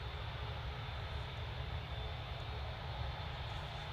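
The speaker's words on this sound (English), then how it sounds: "Ryanair is taxiing onto the threshold" A Ryanair airliner taxiing at Manchester Airport gives a steady, distant engine rumble, low and continuous with no breaks, heard alone with no voices over it.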